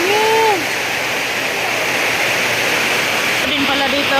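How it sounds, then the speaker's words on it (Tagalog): A strong flow of dripping water inside a house, a loud continuous rushing splash that fills the whole clip, with short voiced sounds heard at the start and end. "Dito din pala, oh, malakas din pala yung tulo, oh. Dami naman tubig."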